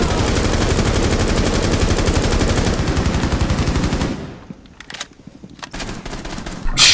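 Rapid automatic gunfire in Rainbow Six Siege, a dense loud burst for about four seconds, then a quieter stretch with a few scattered single shots and a sharp final blast, no speech.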